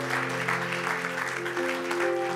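A church congregation applauds in a steady, sustained wash of clapping, heard over a held keyboard chord that continues underneath.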